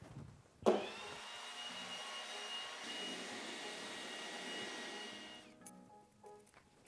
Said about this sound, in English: Let's get the blower and blow these leaves out of here.